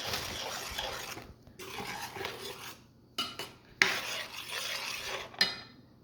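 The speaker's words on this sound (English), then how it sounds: "Mix your spices in here, in the gravy" Spices being stirred into palak paneer gravy in a pan over medium-low heat, with repeated scraping and clinking of a utensil against the pan in bursts and a few sharper knocks, close and fairly loud.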